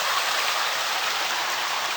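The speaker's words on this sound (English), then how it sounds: "And it's a beautiful little creek." A small creek runs over bedrock in the Tulameen area, producing a steady, broadband rushing hiss heard up close, continuous and even throughout with no voices.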